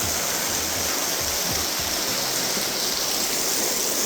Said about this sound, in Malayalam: മേലൊക്കെ ഇങ്ങനെ വെള്ളം ഒലിക്കുന്നു.